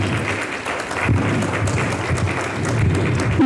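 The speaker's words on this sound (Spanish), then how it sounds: "un aplauso para ellos." Medical education audience applauding in a hall, a dense and continuous wash of clapping close by with a few dull thumps, steady for several seconds.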